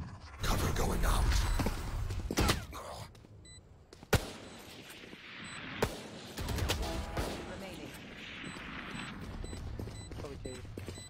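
Pistol shots and bursts of gunfire in the Valorant shooting game, a few sharp cracks standing out over steady game noise while a player talks throughout.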